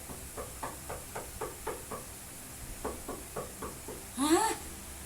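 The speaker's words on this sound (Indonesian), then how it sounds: "Bagaimana suara ketukan pintu?" Knocking on a door: about a dozen crisp raps in two quick rhythmic groups separated by a short pause, moderately close and fairly quiet, followed by a brief squeaky sound.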